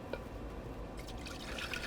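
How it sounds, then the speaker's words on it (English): Prepared pork brine is poured from a container into a measuring cup, a steady soft rush of liquid with faint splashing throughout, no voices. "The brine that I prepared for my pork butt, I'm just going to pour into a measuring cup"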